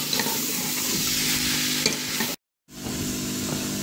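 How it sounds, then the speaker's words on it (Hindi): Capsicum and chicken sauté in a pan with a constant loud sizzle and stirring scrapes. The sound cuts out briefly, then the frying resumes. "शिमला मिर्च ऐड करने के बाद हम इसे अच्छे से भून लेंगे।"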